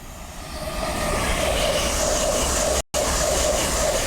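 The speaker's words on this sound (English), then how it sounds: "the next train to be coming through will be an LNER Zuma running from Newcastle through to London King's Cross" An LNER Azuma train passes through Doncaster station on the East Coast Main Line with a loud, steady roar and rolling rumble. The sound is close, broadband and sustained, with one momentary dropout.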